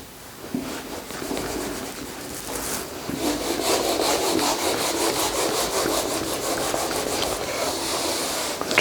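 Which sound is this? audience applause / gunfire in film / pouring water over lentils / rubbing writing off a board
rubbing writing off a board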